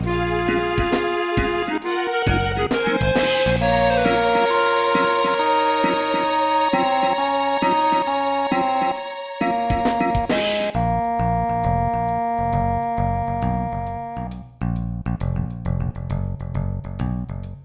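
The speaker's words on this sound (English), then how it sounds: "there's an area in the game where the music sounds like this." Area music for a Final Fantasy VII audio adventure plays alone: sustained tonal instruments and layered chords carry on steadily and clearly, with a brief drop before the texture shifts.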